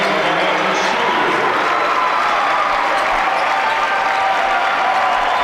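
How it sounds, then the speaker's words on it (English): A crowd at a boys' high school basketball state championship game applauds a player. The clapping is loud and sustained, with a faint murmur of voices beneath it. "Great round of applause for Wisniewski, who was all over the place defensively."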